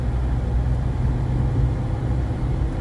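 Small engine of a used car running smoothly while driving, a steady low hum and rumble inside the cabin at constant loudness, without jerks or surges.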